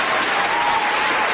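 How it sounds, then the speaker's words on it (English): A studio audience applauds as the crowd is brought in, a dense, loud, continuous burst of clapping. "I'm going to bring out the crowd for this one"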